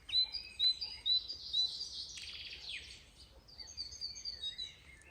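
Small birds chirp and trill nearby in spring woodland during breeding season, a bright run of quick tweets and warbling phrases rising and falling over a quiet background, with no talking.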